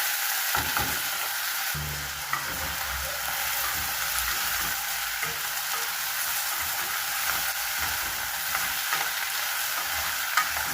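Poppy-seed dish sizzles steadily in a hot pan over high flame while a utensil stirs and scrapes through it, a constant hiss with occasional knocks.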